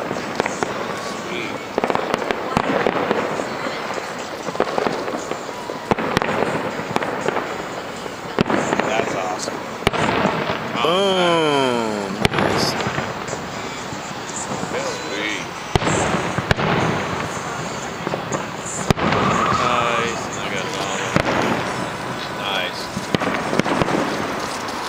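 Fourth of July fireworks burst repeatedly at Coors Field, loud and frequent booms and crackles from a crowd setting, with a whistling rocket rising partway through and people talking throughout.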